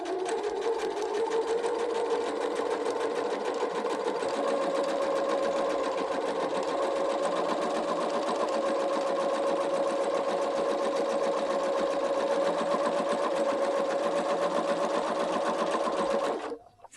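A domestic sewing machine with a twin needle and maximum thread tension stitches a pintuck in one steady, fast, continuous whirring run before stopping abruptly at the end.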